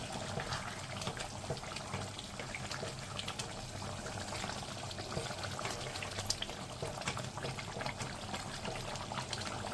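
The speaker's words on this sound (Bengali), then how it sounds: "আগে থেকে যে চিকেনটা রান্না করা ছিল তার মধ্যে এই ধনেপাতা টক দইয়ের মিশ্রণটা ঢেলে" A coriander and yogurt mixture is poured into cooked chicken for Faridpuri chicken kosha, a soft, steady liquid pouring and bubbling noise that runs evenly throughout.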